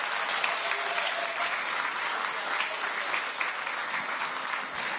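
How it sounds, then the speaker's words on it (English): A large audience at a startup pitch competition final applauds and cheers as the presenting teams walk onto the stage, a dense, steady wash of clapping that holds at full volume throughout with no voices rising above it. "You can cheer for them as they come to the stage."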